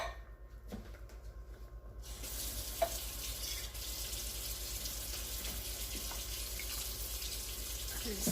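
Tap water runs into a kitchen sink for rinsing, starting after a brief quiet moment with a few soft knocks, then a steady rushing stream that continues to the end.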